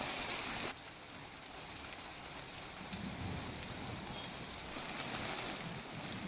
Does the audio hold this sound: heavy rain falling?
yes